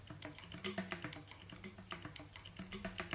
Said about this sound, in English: One common complaint with Paetzold recorders is that the keywork is way too noisy